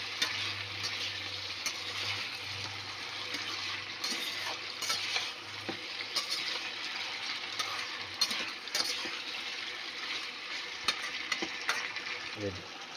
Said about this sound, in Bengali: চিকেনটা একটু ভেজে নেওয়ার পর দিয়ে দিলাম কেটে রাখা টমেটো ও দিয়ে দিলাম চেরা কাঁচা লঙ্কা। দিয়ে এটাকে আবার একটু নেড়ে চেড়ে নেব।